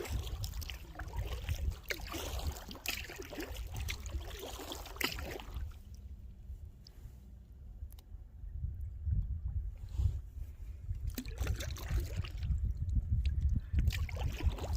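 A canoe or kayak paddled past a farm in open water, with soft rhythmic paddle strokes and splashes, faint dribbling water and light wind, a quieter stretch midway before the strokes resume.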